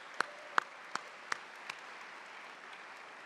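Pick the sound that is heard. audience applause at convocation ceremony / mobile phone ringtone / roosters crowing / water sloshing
audience applause at convocation ceremony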